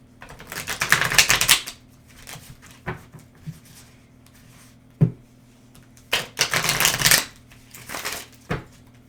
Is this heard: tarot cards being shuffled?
yes